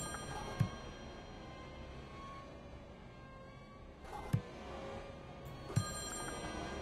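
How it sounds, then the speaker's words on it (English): Telephone rings in the Friday the 13th Killer Puzzle game, three short bright chimes spaced a few seconds apart over a steady low ambient hum, no voices. "So I can make them turn around by tapping the phone."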